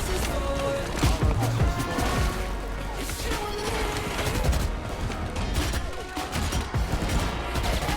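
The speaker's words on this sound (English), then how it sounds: "What Sage is shooting like that?" Rapid gunfire from the Valorant video game crackles in dense, continuous bursts with clanking mechanical effects throughout, loud and busy, with a voice faintly under the shots.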